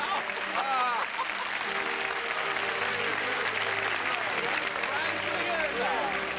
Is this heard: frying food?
no